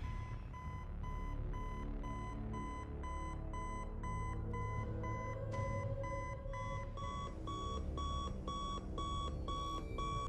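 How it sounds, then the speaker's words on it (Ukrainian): An electronic alarm clock in the Five Nights at Freddy's film plays the game's end-of-night melody, a rhythmic string of bright beeping tones repeating steadily over a soft low background. "електронний будильник головного героя, який програє ту саму мелодію, яку можна почути в кінці «П'ятої ночі»"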